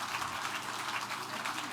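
A brief burst of crowd clapping at the grand opening of the Bay of Pigs Museum in Miami, moderately loud and steady.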